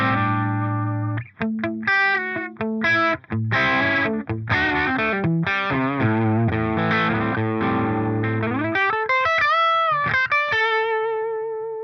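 Electric guitar played through an Amplitube 5 Friedman Pink Taco (MiniPlex 20) amp simulation with a slightly dark, distorted tone: loud, close riffs of chords and single notes, ending in sustained, shimmering held notes.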